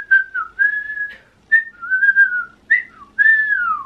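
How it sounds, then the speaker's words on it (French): A person whistles with the lips alone, a clear melodic tune of several sustained notes that glide up and down in short phrases with brief breaths between them, close and fairly loud, with no talking. "Donc je vous ai déjà dit que je sais siffler normalement"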